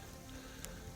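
Heavy rain pours onto an Arizona trail as a steady, even hiss of drops, faint and continuous throughout.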